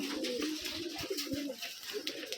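Pigeons at an old-generation loft in Rajshahi give soft low coos, several rounded calls overlapping with a steady murmur of birds in the background.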